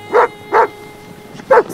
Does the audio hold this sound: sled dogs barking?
yes